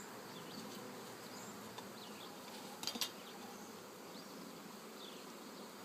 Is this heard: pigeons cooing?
no